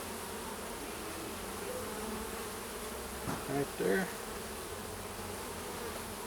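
A bee buzzes around the head of a beekeeper at a top bar hive, its drone steady and close, with a brief spoken remark partway through.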